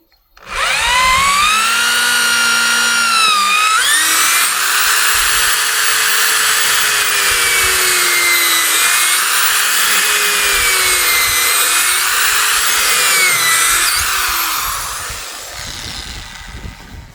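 A power tool drives a screw into solid wood for rustic table legs, a loud, close whine holding for about fourteen seconds with wavering pitch as it bites in, then trailing off.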